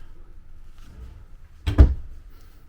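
A kitchen drawer or cabinet in a Grand Design XLS 22MLE RV is pulled and shut, giving one short, close thump after a quiet stretch.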